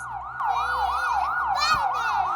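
A police car siren wails in quick, regular rising and falling sweeps, loud and close, repeating steadily for the whole span, with a low background rumble underneath.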